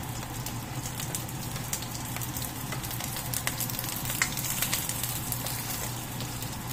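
Onion and garlic sauté in a pan for paksiw na salmon belly, giving a steady close sizzle with occasional stirring clicks and a low hum underneath, no talking.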